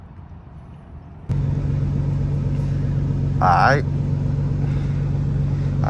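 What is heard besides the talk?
Nissan GT-R R35 engine while driving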